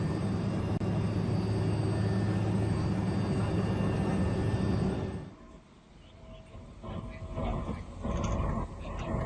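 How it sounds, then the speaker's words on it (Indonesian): Super Puma military helicopter flying for an Indonesian Air Force and Basarnas evacuation mission, a loud steady rotor and engine roar that cuts off midway, followed by quieter rumbling background noise. "Helikopter Super Puma disiagakan bersama 7 kru gabungan, baik dari TNI Angkatan Udara maupun Basarnas."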